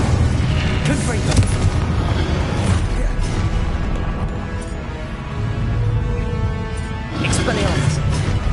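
Confringo blasting spell explosions from Hogwarts Legacy, a heavy, continuous rumble of booms and blasts with dense layered impacts, loudest near the start and end.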